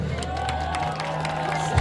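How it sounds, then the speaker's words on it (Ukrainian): An outdoor crowd cheers and applauds the winners at a half-marathon awards ceremony in Lviv, a continuous roar of voices and clapping with a faint musical tone underneath. "Друзі, оплески!"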